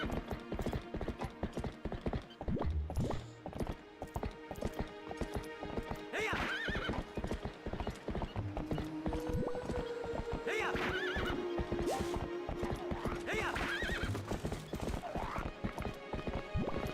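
A horse in Zelda Twilight Princess clip-clops at a gallop with repeated hoof beats throughout, breaking into several loud neighs and whinnies over game sounds.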